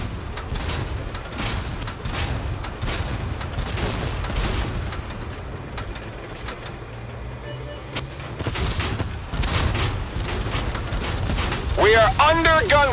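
Gunfire and cannon blasts in the tank video game Tank Force rattle on continuously at a steady, busy pace, with heavier booms mixed in and voices talking over the action.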